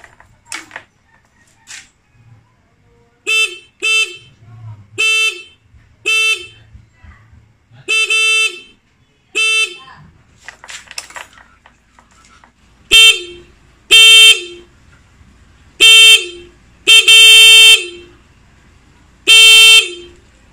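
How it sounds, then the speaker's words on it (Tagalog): Horn on a Yamaha Mio Sporty motorcycle wired with a relay, sounding a series of loud, separate honks, some short and some held, with clicks and mechanical creaks between them and no talk. "testing na natin kung anong status ng busina natin, kung lumakas ba"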